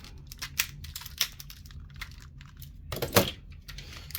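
Plastic parts of a Transformers Legacy Tidal Wave toy are snapped and popped into place, giving scattered close clicks and faint plastic rustles, with a louder cluster of clicks near the end.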